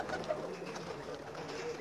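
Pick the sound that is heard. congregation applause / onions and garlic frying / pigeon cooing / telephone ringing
pigeon cooing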